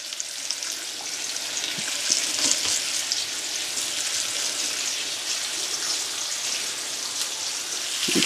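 Quail brown in a big cast iron pan, giving a steady, bright sizzle and spatter throughout with a few small pops and no talking.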